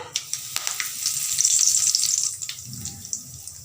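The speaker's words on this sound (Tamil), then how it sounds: "அதுலேயே கருவேப்பிலை தலையை போட்டுறேன்." Curry leaves crackle and sizzle as they hit hot oil, a bright hissing burst that swells and then fades, with a few faint clinks.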